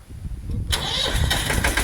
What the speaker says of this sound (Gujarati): તો અમારા ટ્રેક્ટર થઈ ગયું ચાલુ